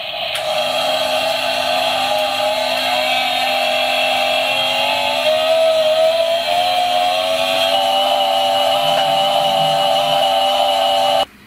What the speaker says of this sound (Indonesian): lihat, ada suara efek mesin gergaji